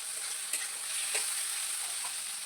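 Eggplant and potato pieces fry in a pan with a dense, even, continuous sizzle, close and fairly loud, broken by a couple of soft stirring touches and no talk.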